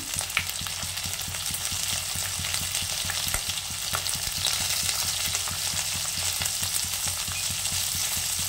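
Poppy seed and green chilli paste fries in a pan with a dense, continuous sizzle and crackle, steady and close throughout, with occasional stirring scrapes.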